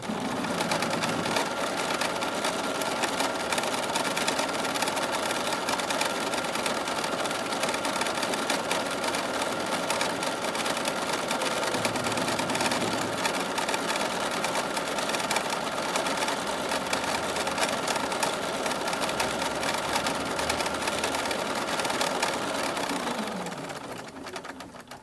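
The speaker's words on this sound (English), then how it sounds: "I'm going to ask the machine to go ahead and do the stitch for the batting for the second one" Close and loud, a sewing machine hums continuously for over twenty seconds as it quilts a stitch through batting for a table topper, with a slight shift in tone partway through before slowing and stopping at the end.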